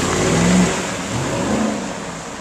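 A Cadillac Escalade revs and pulls away through a blizzard, the engine swelling briefly then fading under steady wind-like noise, with no voices.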